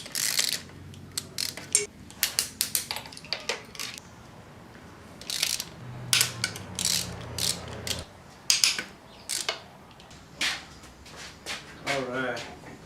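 Ratchet wrench loosening the 12mm bolts that hold an engine's intake manifold to the cylinder heads, sounding as repeated bursts of close, sharp pawl clicks in short runs with brief pauses, plus occasional clinks of metal parts.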